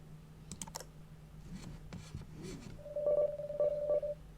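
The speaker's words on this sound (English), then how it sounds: "Press the listen button to hear how the tune sounds." A few quiet keyboard clicks give way to a short run of clear, beeping electronic tune notes from the puzzle game You Can't Play, played alone at moderate volume.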